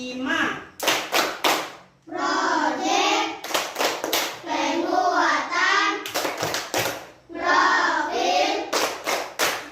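Schoolchildren in a classroom clap out the rhythmic 'Tepuk P5' chant in bursts of sharp, loud handclaps, alternating with their chanted group voices and a teacher's voice.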